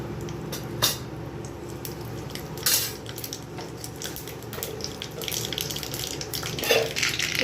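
Asafoetida and mustard seeds go into hot oil for a Marathi radish koshimbir, giving a steady close sizzle and crackle with sharper pops scattered throughout.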